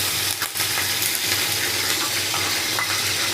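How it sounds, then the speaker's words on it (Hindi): Garlic, ginger and green chili paste fry in hot oil for a chicken tikka biryani, giving a steady, dense sizzle with occasional stirring scrapes, close and continuous without talk. "ऑयल गर्म हो चुका है, इसमें अब मैं डाल देती हूँ 1 टेबलस्पून लहसुन और 1 ही टेबलस्पून अदरक का पेस्ट"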